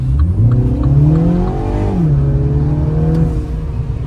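A Mini Cooper S with a 2-litre engine accelerates hard, its loud, close engine note climbing steadily in pitch, easing briefly, then holding a strong even drone, with no talk over it.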